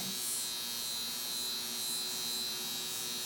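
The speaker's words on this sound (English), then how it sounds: "So you insert the electrode into the wand, place it over the gauze, and turn it on" A high-frequency facial electrode wand, switched on and held over gauze, gives a steady, even electric buzz with a thin high whine that carries unchanged from start to finish, close and alone.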